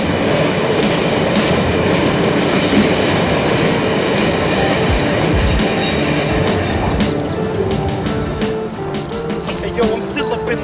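A train rumbles loudly and steadily, with rhythmic clacking of wheels over rail joints and occasional metallic squeals, continuous throughout.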